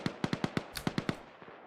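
Gunshots in Arma, a quick string of about ten sharp cracks in uneven rhythm, fairly faint and distant-sounding, ending in a brief tail of softer pops.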